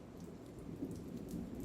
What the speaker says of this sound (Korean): 빗소리가 창턱에 튀며 소리를 내고 있었다.